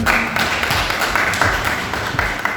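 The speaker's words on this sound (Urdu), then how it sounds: "عمران کے لیے ذرا تالیاں بجائیں" Audience clapping at a question-and-answer session, a steady dense patter of many hands applauding, fairly loud and continuous with small surges throughout.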